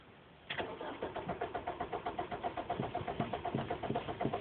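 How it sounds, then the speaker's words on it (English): A car engine cranks over and over without catching, a steady rapid rhythmic churning of the starter that runs for several seconds, loud and close with no voices. "It just won't turn over."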